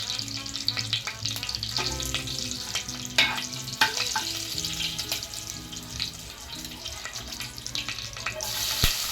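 Curry leaves and asafoetida sizzle and fry steadily in hot oil in a pan for a lauki sabzi tempering, with occasional stirring clatter, no voices.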